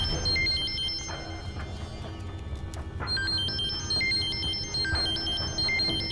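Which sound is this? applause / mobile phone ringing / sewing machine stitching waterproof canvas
mobile phone ringing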